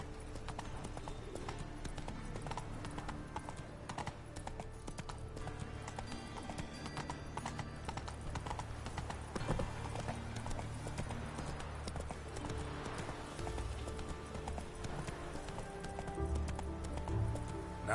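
Roach, Geralt's horse in The Witcher 3 game, gallops with steady rapid hoofbeats, loud and close throughout, with occasional voices and background score mixed in.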